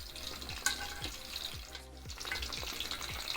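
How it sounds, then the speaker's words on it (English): Sausages frying while well immersed in hot oil, giving a steady crackling sizzle with small repeated pops and bubbling, fairly quiet and close. "Just make sure they are well immersed in the oil, and then you don't have to boil your sausages before cooking"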